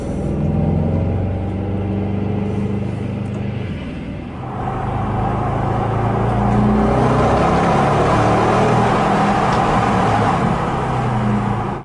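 A Bentley GTC drives past, its engine rumbling low and steady before swelling in a louder, closer surge of road noise and revving that continues to the end.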